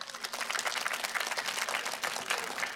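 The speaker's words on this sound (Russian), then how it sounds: "Пошли аплодисменты." An audience at a concert claps in steady, dense applause before a song premiere, a moderately loud wash of hands with no voices over it.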